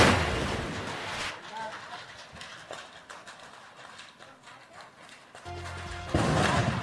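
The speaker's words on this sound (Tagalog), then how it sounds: "Maririnig ang sunod-sunod na putok mula sa bahay na yan sa Barangay Canmoros" A string of firecrackers stored in a burning house storage room in Binalbagan, Negros Occidental, bursts in rapid crackling pops, loud at the start and end with scattered snaps between, under a news narrator's voice.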